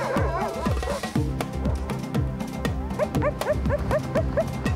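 A team of sled dogs on an Arctic sledding run yips, whines and barks in quick overlapping bursts, close and loud, with busy harmonic whimpers rising over a steady noisy background.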